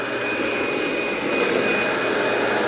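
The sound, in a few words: commercial vacuum cleaner with brush roll running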